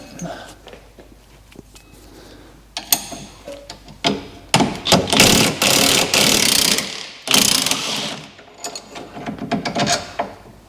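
A ratchet and metal tools work a suspension arm bolt free on a salvage BMW M2. Clicking and clanking at close range build into several loud, grinding bursts, and the bolt knocks and scrapes as it comes out.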